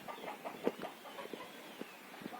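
Soft, faint clucking of bantam chickens, a series of short low calls at irregular intervals, somewhat distant with no voices, on a village farm.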